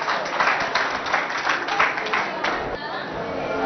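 An audience claps for a pupil from a bilingual secondary school in Mongo who is about to recite poems. The applause is a steady, fairly loud patter of many hands, mixed with crowd chatter and some voices.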